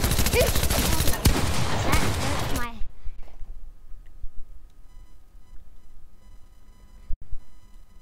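Rapid bursts of video game gunfire during a shootout crackle loudly for the first few seconds, then cut to quieter ambience with one sharp shot near the end.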